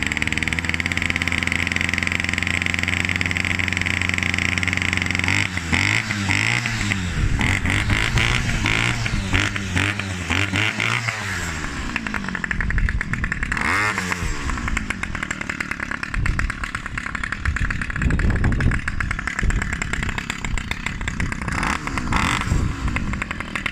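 A Challenge Xtreme SGT26N petrol strimmer, just cleaned at the carburettor and started on choke on a warm day, runs loud and close, its two-stroke engine buzzing steadily and revving up and down repeatedly.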